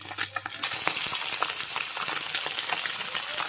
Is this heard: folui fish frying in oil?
yes